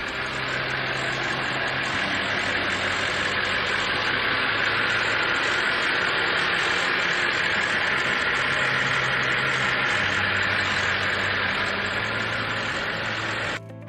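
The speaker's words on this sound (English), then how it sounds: "I want to show you the engine of the car" A 2019 BMW M5 engine runs steadily at idle, a continuous even drone with a broad hissing wash and no change in pitch, heard close and unbroken throughout.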